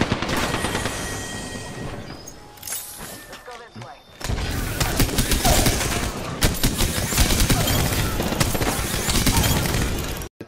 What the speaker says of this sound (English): there's a firefight in bunker